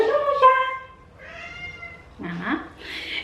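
A cat meows several times up close, a clear drawn-out call followed by shorter, higher cries with brief pauses between them.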